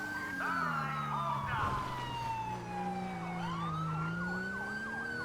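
A police siren in the video game LSPDFR (GTA V police mod) wails continuously, sweeping up and down in pitch over a low engine rumble, loud and close throughout.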